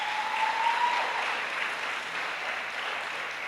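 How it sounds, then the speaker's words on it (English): Audience applause at a secondary school graduation ceremony, a steady wash of many hands clapping in a hall, moderately loud and continuous throughout with no speech over it. "Please give them all applause."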